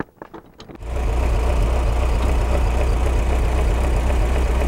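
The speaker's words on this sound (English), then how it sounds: "I'm going to start the Ford engine because it needs to be hot, we think." A wood-gas-converted Model T Ford engine idles on gasoline while warming up. A steady, loud low rumble starts after a brief quiet start and then holds an even, fast chugging pulse with no talk.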